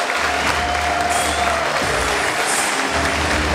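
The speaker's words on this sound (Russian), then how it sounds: "наши аплодисменты." Audience applause at a boxing event honoring a trainer from Pskov, a steady dense wash of clapping filling the hall, with a faint tonal line briefly running through it.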